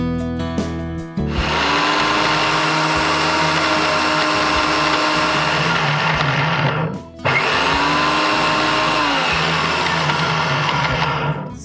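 Mixer grinder grinding poppy seeds into a paste, a loud, steady close-up whir that runs for several seconds, cuts out briefly, then starts up again.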